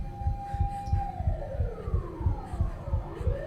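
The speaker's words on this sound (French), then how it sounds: "Ah, on entend les sirènes." A police siren in the video game Chilla's Art The Karaoke wails, sweeping up and down over a pulsing low thump, moderately loud and continuous, with no talking.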